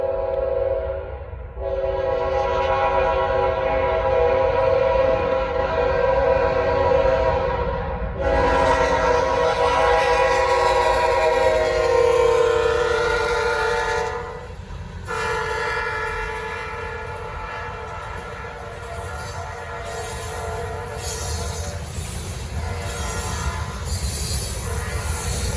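Norfolk Southern freight train 153 passes southbound near Charlotte with locomotive 3626 leading, its horn blaring loud and close in long blasts over the heavy rumble and clatter of rolling cars, with brief wheel squeal as it goes by.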